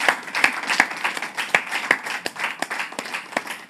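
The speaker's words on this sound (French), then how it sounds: "Je vous demande de l'applaudir très fort." A studio audience claps for a guest on a French talk show, a steady patter of individual hand claps, moderately loud and without voices.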